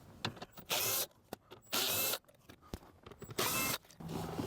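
Three bursts of a ratcheting wrench spinning out 10mm bolts from an interior panel of a 2018-2021 Lexus RC F, each burst about a second long, close and loud, with small clicks and handling noises between them.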